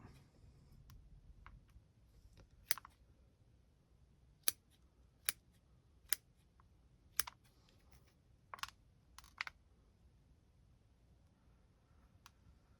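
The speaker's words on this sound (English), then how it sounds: "Snip some of these top roots off." Pruning scissors snipping the roots of a black locust seedling, a sparse series of sharp, close clicks spaced irregularly over a quiet background.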